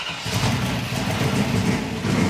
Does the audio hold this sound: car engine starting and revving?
yes